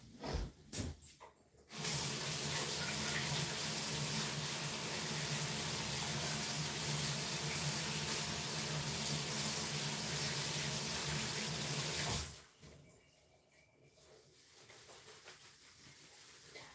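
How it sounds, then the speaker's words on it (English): A kitchen tap runs hard for about ten seconds as something is rinsed off, a loud, steady hissing rush of water that starts abruptly and stops just as suddenly, with quieter handling sounds before and after. "Hold on, let me rinse these off."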